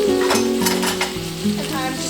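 Chicken livers fry fast in a hot pan, giving a loud, steady sizzle with spitting crackles and a few soft scrapes, close up and without speech.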